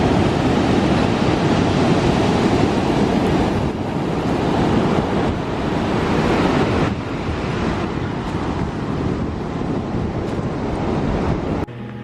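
Ocean surf rolling onto the beach at Jaco, Costa Rica, a steady broadband wash of breaking waves with wind buffeting the microphone throughout, loud and continuous with no voices.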